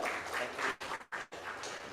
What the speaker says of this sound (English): Let's give him a warmer round of applause